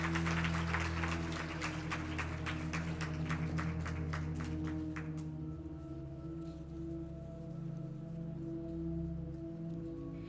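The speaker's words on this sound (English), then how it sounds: "Let's give them another round of applause." Applause from an audience after a yoga display at an International Day of Yoga event, a faint patter of clapping that thins out and fades after about five seconds, leaving a low steady hum.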